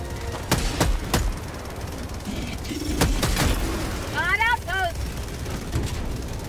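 A sentry turret in Helldivers 2 fires sharp, separate shots in short bursts, loud and close, amid battle rumble and chirping mechanical whirs during a chaotic fight.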